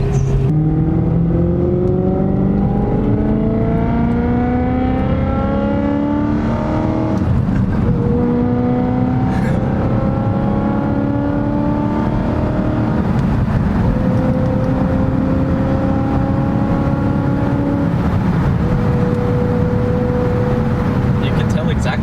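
BMW E90 M3 with an OEM exhaust mod accelerating hard, its engine note climbing repeatedly in pitch with brief drops at each gear change, loud and close from inside the car, with people talking over it.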